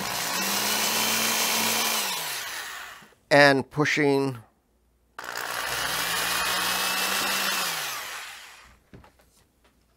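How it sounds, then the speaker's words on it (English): A power drill bores a pilot hole in fiber board in two long whining runs with a steady motor tone, separated by a brief burst of speech and a short silence. "and drilling what's called a pilot hole"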